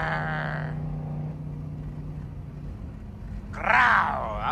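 The exhaust of a catless Dodge Durango RT gives a low, rough growl close by, fading briefly and then surging again in a harsh, wavering burst near the end.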